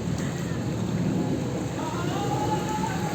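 Steady, heavy typhoon rain hisses continuously during flooding in Malabon, Philippines, a dense wash of noise with no break, heard up close.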